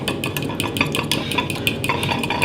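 A spoon stirs Italian dressing and Frank's hot sauce together in a dish, making quick, rhythmic clinks and scrapes up close with no talking.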